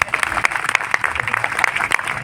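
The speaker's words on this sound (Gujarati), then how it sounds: "તાળીઓ તો પાડો." Audience applause fills the hall at a college's 25th annual function and prize distribution, dense continuous clapping with a crowd murmur beneath it, steady and fairly loud throughout.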